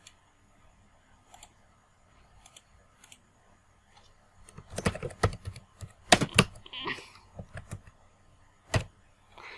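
Computer keyboard typing in irregular bursts, sparse soft clicks at first, then a denser cluster of louder keystrokes midway, tapering to a few isolated taps.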